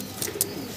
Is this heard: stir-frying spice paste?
no